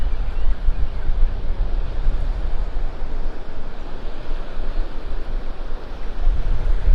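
Strong wind roars and buffets continuously, mixed with the low rumble of surf on a beach at Clam Pass, Naples, Florida, loud and unbroken.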